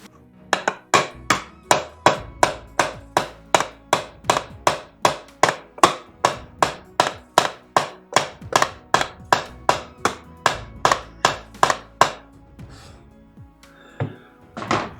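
Steady hammer blows while sealing a skylight hole, about thirty sharp strikes in a regular rhythm, close and loud with short pauses, then a few lighter knocks at the end.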